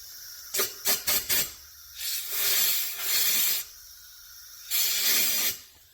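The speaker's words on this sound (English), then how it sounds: "Fired up my air compressor." Air compressor nozzle blowing metal chips out of a rifle chamber during chambering in a garage, a series of short sharp hissing blasts followed by longer sustained bursts of air.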